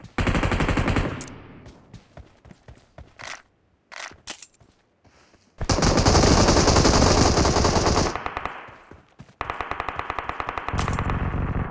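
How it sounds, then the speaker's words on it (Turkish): Intense automatic gunfire from a PUBG Mobile firefight, with loud rapid bursts, scattered single shots and echoing pauses, then long sustained volleys that dominate the mix with no talk. "Evet arkada yoğun bir çatışma var."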